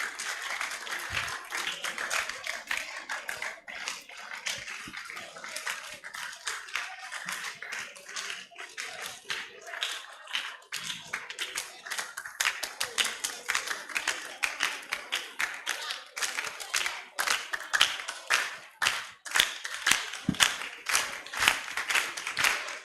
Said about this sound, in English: let's keep clapping as they come.